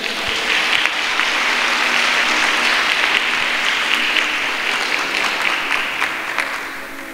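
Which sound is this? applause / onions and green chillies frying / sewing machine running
applause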